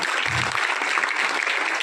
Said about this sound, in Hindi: एक तालियां बजाओ तो मन से बजाओ